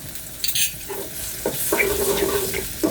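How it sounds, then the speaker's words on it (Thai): Garlic and ginger stir-fried in hot oil, a loud close sizzle with scraping spatula strokes against the pan, no talking. "พอน้ำมันร้อนก็ ผัดให้มีกลิ่นหอมครับ"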